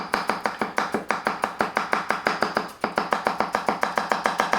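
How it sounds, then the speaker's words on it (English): Thin, rapid knife strokes from a Murata 165mm nakiri slicing vegetables on a cutting board, a steady run of crisp close taps with one short pause midway. "I was chopping this very thin and everything pushes off"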